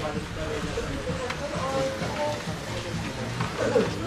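Rain falling on a motorcycle rider in Zamboanga City, a steady patter and hiss mixed with road and wind rumble, with a voice speaking briefly over it.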